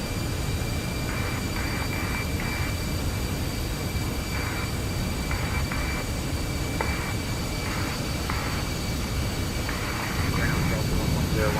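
An Airbus A319-100 taxis to the ramp in Microsoft Flight Simulator, a steady engine drone and hum running throughout with intermittent tonal cockpit sounds layered over it.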